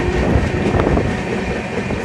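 Express train on an electrified Indian railway line rolling past close by, a loud continuous rumble with steady clickety-clack of wheels on rail joints and no voices.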